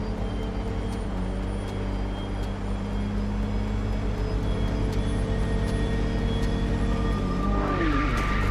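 A car in the Mindseye video game drives steadily with a constant engine drone, then its tires squeal sharply near the end as it turns, with no talking over it.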